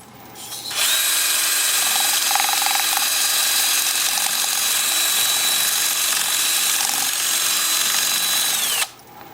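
A power drill spins a slotted wooden dowel fitted with sandpaper, whirring at a steady high pitch for about eight seconds with a faint scratchy sanding texture before cutting off abruptly.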